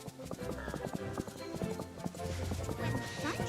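Horse hooves clip-clop in a steady, quick rhythm while riding in Disney Dreamlight Valley, close and clear over continuous game music.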